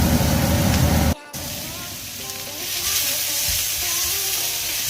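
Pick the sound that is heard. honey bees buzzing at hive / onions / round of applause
onions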